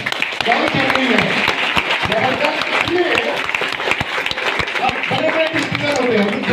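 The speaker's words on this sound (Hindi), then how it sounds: "अपने टीचर के जोरदार ताली बजाइए।" An audience claps loudly for teachers in a hall, a dense, continuous burst of applause with sharp individual hand claps standing out and voices mixed in throughout.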